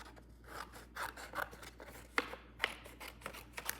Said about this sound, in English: So I gotta cut this. Where's my scissors?